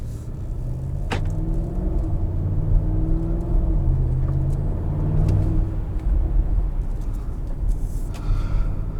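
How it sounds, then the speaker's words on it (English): A 2021 Audi SQ7 drives along with a steady low engine rumble and road noise, faint tonal shifts as it moves, heard from inside the cabin. "let's go for a drive."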